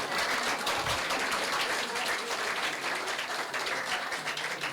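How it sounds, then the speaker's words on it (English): A steady round of applause from the audience at a college speech competition, dense continuous clapping that holds at an even level throughout. "put your hands together and give a huge round of applause for all the performers"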